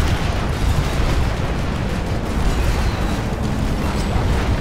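A heavy explosion from an AV turret hit rumbles through a Planetside 2 armored battle, a dense, continuous low boom with sustained roar filling the whole stretch, loud and close with no voices.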